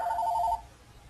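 A telephone rings with a short electronic trill, a steady tone that stops abruptly about halfway through, with no other sound beyond faint room noise.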